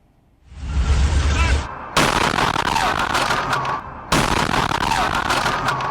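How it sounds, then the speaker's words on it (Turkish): Bus exploding at a bus stop, caught on a security camera: loud sudden blasts and harsh crackling bursts in quick succession, with ongoing noisy debris and commotion in between. "tam o sırada otobüste korkunç bir patlama meydana geldi"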